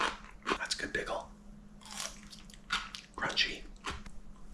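Close, wet crunching and chewing of a spicy refrigerator pickle comes in a few bursts with short pauses between bites and some juicy squishing.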